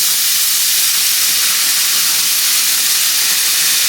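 Beef broth poured into a hot pan of crisping onions, a loud, steady, bright hiss of sizzling and steam that continues unbroken.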